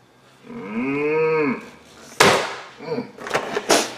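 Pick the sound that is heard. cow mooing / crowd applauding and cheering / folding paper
cow mooing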